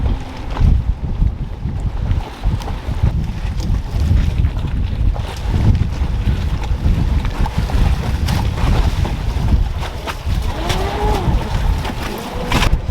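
Loud, steady engine drone with rushing water and wind buffeting the mic as a boat moves across the water, continuous throughout with no talking.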